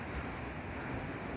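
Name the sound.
flowing Mandakini river water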